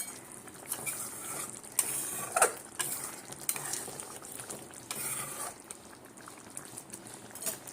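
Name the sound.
ghee sizzling in pan while stirring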